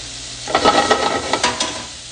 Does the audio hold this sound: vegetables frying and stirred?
yes